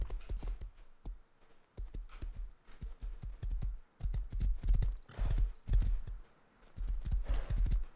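A horse gallops through a forest in the video game Rust, with rhythmic hoofbeat clip-clops in bursts separated by short pauses and a brief whinny, moderately loud and close.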